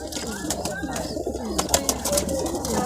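Pigeons coo repeatedly at a bird sale near Diamond Harbour station, the soft low calls close by and mixed with chirps, with people talking around them.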